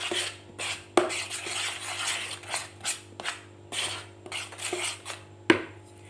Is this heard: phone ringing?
no